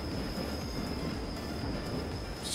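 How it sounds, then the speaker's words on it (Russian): A train brakes during shunting work in the Train Simulator 2016 game, a steady low rumble of rolling wagons with a thin, sustained high whine running over it, continuous and without speech. "Все, говорим поезду тормозить."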